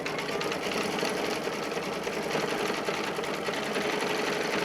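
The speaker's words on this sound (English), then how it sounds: "It's going to basically stitch around the segments." An embroidery machine stitches around the segments of a zippered pouch in the hoop, with a rapid, even, mechanical needle chatter held close and constant throughout.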